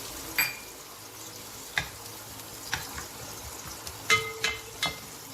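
Chopped onions dropped into two tablespoons of hot oil in a wide-bottomed pan, sauteing with a steady low sizzle and a few soft stirring clinks and scrapes, close by with no voices.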